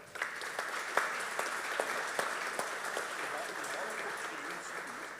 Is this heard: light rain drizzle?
no